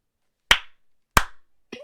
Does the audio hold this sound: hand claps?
yes